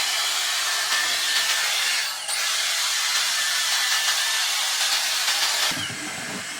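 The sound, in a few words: Dyson Airstrait hair straightener blowing air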